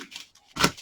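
Scissors snip open a small plastic pouch of diamond painting drills, making two quick crisp cuts up close, the second louder and sharper.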